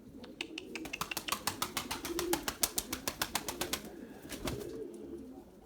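Purebred Erzurum white pigeons cooing close by, with a run of rapid rhythmic pulsing coos rising and falling over a few seconds, then a quieter tail.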